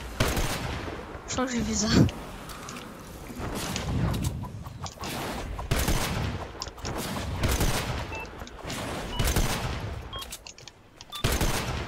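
Gunfire in Fortnite Save the World, with repeated shots and bursts in an uneven rhythm running throughout, mixed with game effects under intermittent talk from a player.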